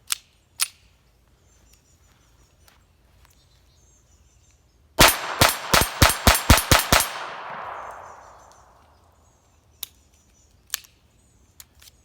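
A Smith & Wesson 2213 .22 pistol fires seven quick, sharp shots in a tight burst with a ringing tail, preceded and followed by a few isolated clicks and clanks at the bench.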